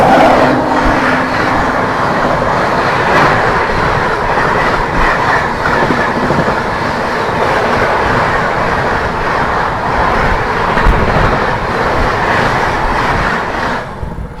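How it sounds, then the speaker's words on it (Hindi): The Sealdah–New Delhi Rajdhani Express passes at Malwan station, a loud continuous roar of rolling wagons with rhythmic wheel clatter sustained for the full length before easing off at the end. "क्रॉस होने आ रही है शियालदह नई दिल्ली राजधानी एक्सप्रेस"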